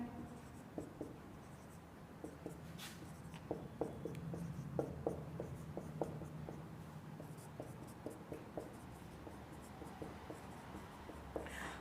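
Chalk or marker taps and scratches steadily while Hindi vowel letters are written on a board during a lesson. The faint, irregular strokes run continuously with no voices.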